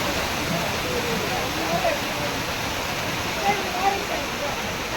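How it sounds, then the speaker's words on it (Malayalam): Honnammanahalla waterfall in a Chikmagalur forest in Karnataka gives a steady broadband rush of falling water, constant and fairly close, with a person talking over it. "കർണാടകയിൽ ചിക്കമംഗ്ലൂർ ജില്ലയിൽ സ്ഥിതി ചെയ്യുന്ന മനോഹരമായ വെള്ളച്ചാട്ടത്തിൻ്റെ പേര് ഹൊന്നമണ്ണഹല്ല വെള്ളച്ചാട്ടം എന്നാണ്"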